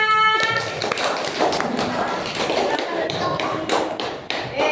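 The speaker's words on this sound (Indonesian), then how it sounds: "Beri tepuk tangannya" Applause fills a classroom of children, with dense, steady clapping that starts right away and carries on loud and close for the whole stretch, while voices murmur underneath.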